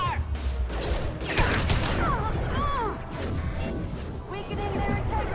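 Heavy gunfire erupts in the Mass Effect 2 combat scene, loud overlapping shots and impacts that run throughout, with brief in-game voices mixed in.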